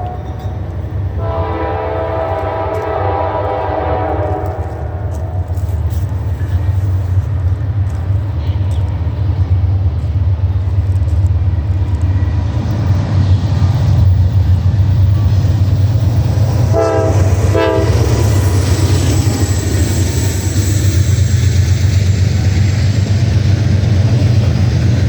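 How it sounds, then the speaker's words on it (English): An eastbound Norfolk Southern intermodal freight train passes close and loud with a heavy continuous rumble and clickety-clack, its horn sounding in sustained blasts near the start and again more briefly midway. "Next train we saw was another Norfolk Southern eastbound intermodal train"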